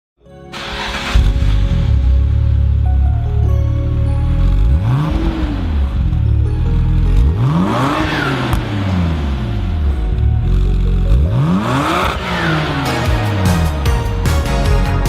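A Nissan GT-R Nismo pulls away on a road, its engine rising through repeated revving sweeps as it accelerates and shifts, loud and close throughout with no talking.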